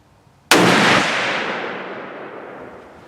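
A single sharp rifle shot from a Savage 110 Desert Tactical, an abrupt loud crack followed by a long fading echo rolling across the range.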